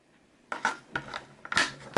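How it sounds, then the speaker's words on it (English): Batteries being fitted into an OMOTON Bluetooth keyboard: several close plastic clicks and scraping knocks in separate bursts, loudest near the end, with no talking. "We simply put the batteries in"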